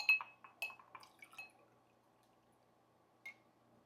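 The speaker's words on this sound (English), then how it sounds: "All right, so let's pour a little water in here." Water poured over an ice cube from a countertop ice maker in a glass, giving a few quick crackles and drips at close range, then near silence and one last small drip.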